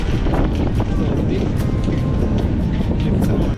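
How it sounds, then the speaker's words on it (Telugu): Strong wind roars and buffets the microphone high on the Eiffel Tower, climbed by stairs toward the second floor, a loud continuous rumble with gusty thuds. "పైకి వెళ్ళి కొద్దీ గాలి విపరీతంగా పెరిగిపోతుంది"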